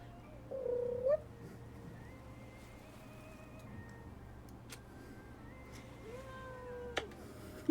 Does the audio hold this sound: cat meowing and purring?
yes